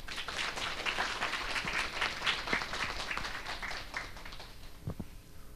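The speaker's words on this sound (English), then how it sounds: "a big round of applause" Audience applause at an indoor international organizations career information session, a sustained wash of clapping from a crowd that fades slightly toward the end.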